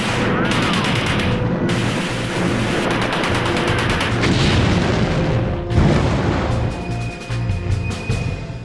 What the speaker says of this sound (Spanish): Se inició un tiroteo desde los edificios de la otra orilla.